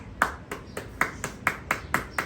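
Steady clapping, about eight or nine sharp claps at an even pace, fairly faint and slightly roomy, with no other sound around them.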